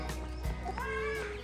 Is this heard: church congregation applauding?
no